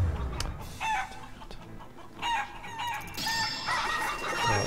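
Chickens cluck and a rooster crows in the video game Shenmue, in short, repeated bursts at a moderate distance over a low ambient background, with no talk.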